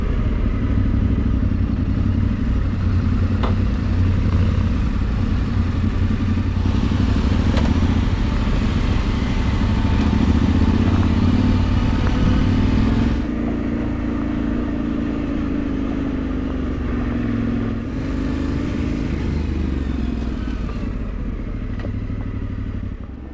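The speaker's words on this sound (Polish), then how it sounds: "Dogoniłem ekipę 3 motocykli z Austrii," Yamaha Tenere 700 adventure motorcycles ride an off-road trail in Italy, their mid-pitched engines droning steadily and close by for the whole stretch, with a slight dip in intensity partway through. No voices.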